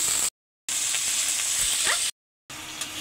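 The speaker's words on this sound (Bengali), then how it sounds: "মরিচ গুঁড়ো, হলুদ গুঁড়ো, লবণ আর আদা বাটা, রসুন বাটা দিয়ে শিং মাছগুলো কষিয়ে নিচ্ছি" Stinging catfish frying in a pan with chili powder, turmeric, salt and ginger-garlic paste, a loud, steady, close sizzle broken by two short gaps.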